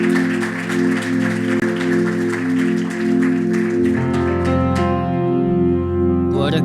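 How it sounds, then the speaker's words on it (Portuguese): Church congregation at an evangelical service applauding, dense sustained clapping layered over loud held organ or keyboard chords, the clapping thinning out as the music swells near the end. "Vamos aplaudir ao Senhor por essa família."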